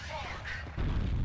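A video game grenade explosion: a low, heavy boom swelling in at mid-clip and holding loud to the end, over earlier game noise and faint talk.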